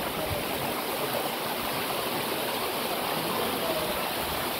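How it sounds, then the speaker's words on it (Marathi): Steady rushing water of a waterfall at Nhavankond near Talebazar, flowing lightly in the monsoon, a continuous broadband roar that stays constant throughout with no talk. "या बघा पाणी असा येत आहे धबधब्याचा"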